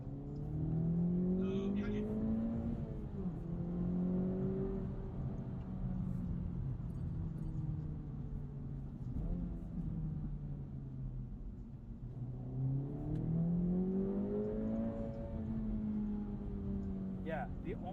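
A car engine hums steadily and swells through two long rev climbs and falls, its pitch sweeping up and down, loud and close throughout.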